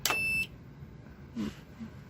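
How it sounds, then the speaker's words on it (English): One short, high-pitched electronic buzzer beep sounds clearly from an SK 560 knitting machine as it is switched on, then quiet room noise with a faint soft thump. "Buzzer sounds"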